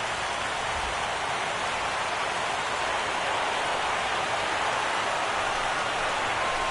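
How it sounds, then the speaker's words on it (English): Steady rain falls on a baseball stadium at game time during an Orioles–Indians playoff game, a constant broad hiss of drops with no breaks, heard alone without voices. "The rain, as we've mentioned, coming down fairly steadily here at game time."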